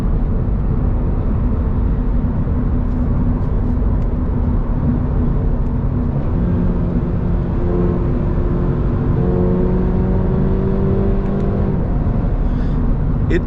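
Toyota GR86 Premium with six-speed automatic driving through turns, a loud steady engine drone with road and wind roar, the engine note rising and falling as the car accelerates out of bends.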